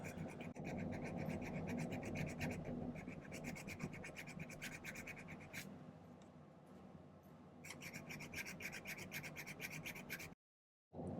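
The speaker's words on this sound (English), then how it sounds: "Take my needle file, clean up the excess solder that's on the inside here." Needle file rasping back and forth to remove excess solder from inside a silver platform ring, steady close scraping strokes in bursts with a short pause midway and a brief silence near the end.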